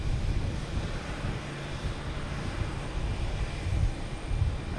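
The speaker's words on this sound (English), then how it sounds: "Lufthansa is moving" A large Lufthansa airliner rolls along the ground at Boston Logan Airport, giving a steady low engine rumble mixed with wind buffeting the microphone, moderately loud and continuous with slight swells.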